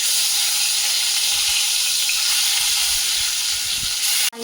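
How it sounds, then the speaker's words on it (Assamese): Fish coated in salt and turmeric fries in hot oil in a wok, giving a loud, steady, even sizzle that holds throughout before a sharp knock right at the end. "ইফালে মই কেৰাহীত তেল দিছোঁ, তেলখিনি গৰম হ'বলৈ দিছোঁ আৰু এতিয়া মাছখিনি দি দিম।"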